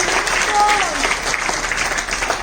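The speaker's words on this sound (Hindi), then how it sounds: "सब लोग जोरदार तालियों से बच्चों को मोटिवेट करें प्लीज।" Audience claps loudly for children at an ISKCON online singing competition, steady crowd applause over a brief span with a voice briefly audible above it.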